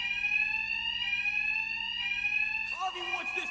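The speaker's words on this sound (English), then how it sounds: "these thugs can't hear a thing over the alarms" Alarms blare inside a facility in the Batman: Arkham Knight video game, a loud steady electronic tone running throughout with game-character voices talking over it near the end.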